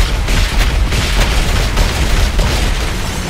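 Bombing explosions in the video game Modern Warfare 3 Spec Ops, a loud rumbling barrage of booms and bursts rolling continuously.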